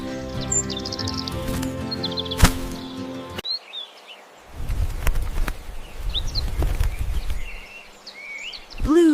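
Robin song: bright, clear chirping phrases and high whistled notes repeated across the stretch, close and moderately loud, with low thumping and rustling noises in between.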